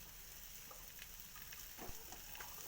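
Something sautés gently in oil with a little turmeric over a low flame, a soft, faint, continuous sizzle with a few small stirring scrapes and no speech.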